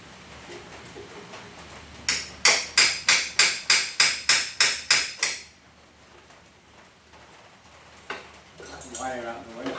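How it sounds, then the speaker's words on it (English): A hammer taps about ten times in a quick even series against the metal subframe of a 250 cc Honda MC16 motorcycle, sharp and close. Quieter clinks follow a few seconds later. "Now you a little tap with the hammer might just free that a little bit."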